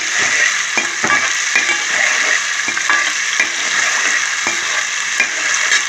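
Ingredients for mutton curry, including ginger garlic paste, sizzle steadily in a pan with a constant close frying hiss and occasional stirring clicks throughout, no talk.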